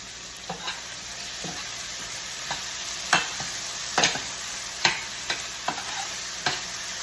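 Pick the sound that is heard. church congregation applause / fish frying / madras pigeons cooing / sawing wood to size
fish frying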